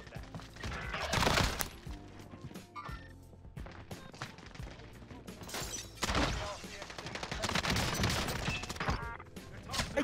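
Gunfire in Call of Duty Warzone comes in bursts of sharp shots between quieter stretches, loud and close, with a player's voice faintly in the background.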